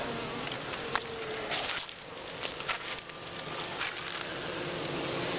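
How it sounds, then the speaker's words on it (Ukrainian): Honeybees buzzing at a hive entrance in an apiary on a hot day, a dense, steady swarm drone close by, with individual bees whining past now and then. "Ось така кількість бджіл тут."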